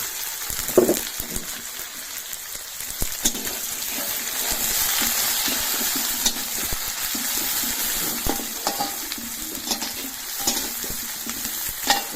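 Onions frying in oil in a pan for a village-style mutton curry, a steady close sizzle with stirring scrapes and occasional clatter, no talking.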